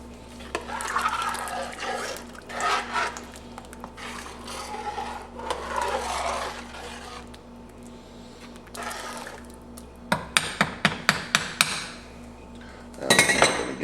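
A whisk or spoon stirs a pot of chicken and sausage gumbo, giving scraping, rasping strokes in uneven bursts against a steady background hum, with a flurry of quick metallic taps near the end.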